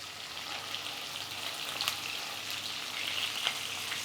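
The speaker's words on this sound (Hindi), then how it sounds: "एक एक करके वो पीसेस डाल देंगे। हाई फ्लेम पर हम चिकन को पहले पकने देंगे" Marinated chicken pieces frying over a high flame in a Mughlai chicken dish, a steady, moderately quiet sizzle with a few faint crackles and pops and no talking.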